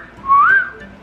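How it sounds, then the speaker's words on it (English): A pet bird gives a single clear rising-and-falling wolf-whistle, loud and close, brief and alone. "And a bird who knows how to do the sexy whistle."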